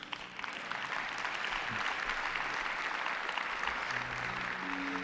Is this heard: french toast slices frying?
no